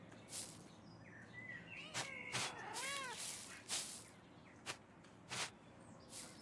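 A pet cat in the monastery garden of the game Pentiment gives a short warbling meow amid sharp clicks, soft footsteps and faint birdsong, with scattered distinct sounds over a quiet backdrop.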